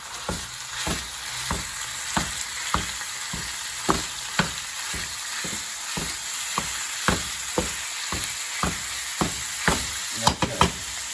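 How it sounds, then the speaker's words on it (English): Ground bison sizzling steadily in a hot pan, a constant frying hiss broken by regular taps and scrapes from a utensil breaking up the meat. "Now I'm going to go ahead and add the ground bison"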